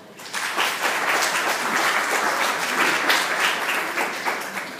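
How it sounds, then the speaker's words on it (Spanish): A crowd applauds steadily, dense clapping sustained at an even loudness throughout, with no voices standing out. "Un aplauso, por favor."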